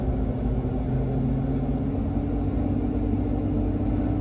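A Horsch Leeb 6300 VL self-propelled sprayer backs up with a steady, loud, low engine rumble and hum that holds constant throughout, heard close up with no talking.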